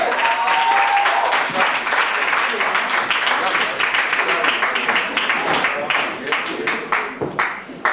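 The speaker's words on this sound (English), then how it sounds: "give her a big round of applause" Applause from a club audience welcoming a comedian to the stage, steady clapping at moderate level that thins out toward the end, with voices mixed in beneath it.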